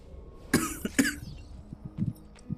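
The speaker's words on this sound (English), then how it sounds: "Sorry about coughing so much." Two sharp, close coughs about half a second apart, followed by softer throat noises and small rustles.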